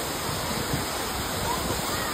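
Savatsada waterfall near Chiplun roars steadily, a constant wash of rushing water with no breaks or other sounds standing out.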